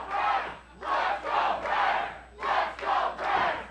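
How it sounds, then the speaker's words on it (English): A packed AEW wrestling crowd trades a two-sided chant back and forth, loud rhythmic bursts of massed voices with brief pauses between each phrase. "Crowd back and forth right now."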